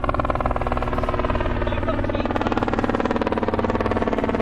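A helicopter in Bigfoot sighting footage gives a steady, rapid rotor chop that stays loud and close throughout, with a faint voice underneath.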